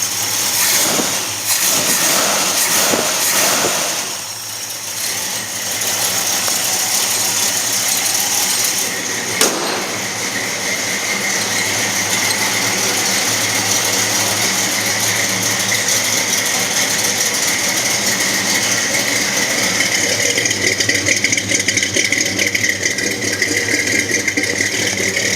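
A 1966 Ford GT clone with a 302 crate engine and C4 automatic idles steadily and loudly, a continuous rattling mechanical rumble with a few clicks and knocks early on.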